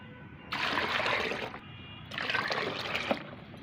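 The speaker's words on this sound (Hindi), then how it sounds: "पहले मैं पानी डाल देती हूँ।" Water poured into a container in two bursts of steady trickling and splashing, close by, each lasting about a second, with a short pause between them. Roughly a litre is going in, for a homemade organic fertilizer mix.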